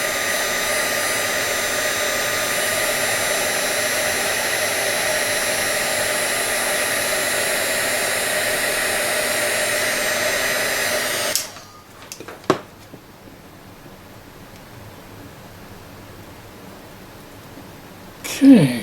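A heat gun blowing hot air onto heat shrink tubing for a model railway speedometer sensor, a loud steady whoosh for about eleven seconds, then switched off, leaving a few quiet clicks and handling noises.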